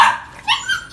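A two-month-old male tiger-brindle Phu Quoc puppy yips and barks in short, high, close bursts, about three quick cries with brief pauses between them.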